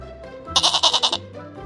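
A goat gives one loud, quavering bleat lasting about half a second, close by and alone.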